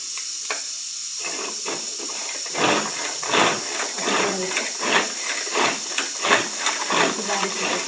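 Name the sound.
chopping onion in a manual chopper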